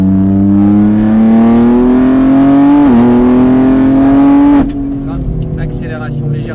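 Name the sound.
car engine accelerating on a race track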